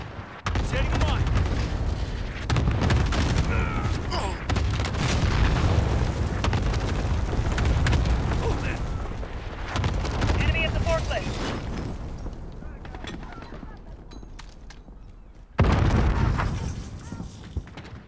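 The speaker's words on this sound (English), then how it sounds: "Enemy cluster strike incoming." A barrage of cluster strike explosions in a video game rumbles and booms in dense overlapping bursts, fading gradually before one more loud blast near the end, with voices talking over the din.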